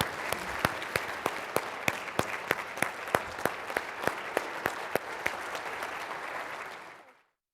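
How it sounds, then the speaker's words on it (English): Audience applause at a leadership speaker event honoring Sandra Day O'Connor: a dense, sustained crowd ovation, with regular sharp individual claps standing out, that thins and fades away in the final second. "Join me in a round of applause for an American icon, Sandra Day O'Connor."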